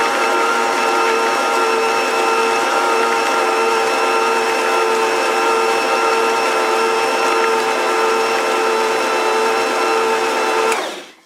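An electric mixer runs steadily on cookie dough with golden and light raisins, giving a loud, even motor whine and whir that holds for about eleven seconds before cutting off abruptly.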